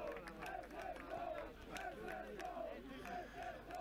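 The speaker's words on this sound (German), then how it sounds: "Der Jubel bei den Harzack-Anhängern dementsprechend groß" Football supporters of SSV Hardstuck cheer after a third goal at an away match against SV West-Eimsbüttel, a steady roaring crowd with rising chants and shouts, moderately distant and continuous.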